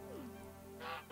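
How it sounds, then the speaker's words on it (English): Geese honk in the farm game Echoes of the Plum Grove, a single soft nasal call rising over steady game music and ambience. "Okay, so the chicken's gone today. It's only geese."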